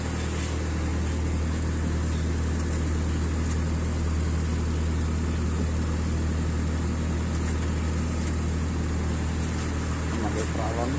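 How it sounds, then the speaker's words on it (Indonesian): A car engine is held at a steady fast idle of about 2000 rpm during an air-conditioning tune-up on an Espass, producing a loud, continuous, even drone with no breaks while a person speaks over it. "Ini diganjal untuk gasnya sekitar 2000 rpm."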